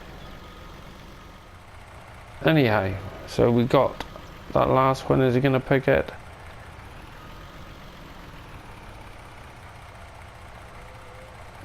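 Low, steady idling of a truck engine in Farming Simulator 19 with the John Deere cotton add-on, droning throughout while someone talks over the middle stretch.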